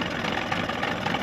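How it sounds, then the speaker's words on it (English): A repaired boat motor runs steadily at idle, a continuous close mechanical drone that holds even throughout with no talk over it. "Got this engine down and running just then."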